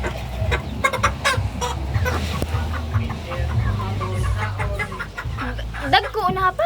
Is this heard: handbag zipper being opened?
no